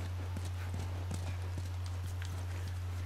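Horse hooves clop at a walking pace in The Last of Us video game, a run of soft, fairly regular hoof strikes over a steady low hum, heard quietly at a distance.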